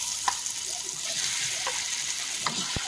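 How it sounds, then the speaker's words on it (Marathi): Fresh shark fish fries in a pan with a continuous loud hiss and crackle, punctuated by occasional small pops and a sharp tap near the end. "ह्या मुशा फ्राय करते"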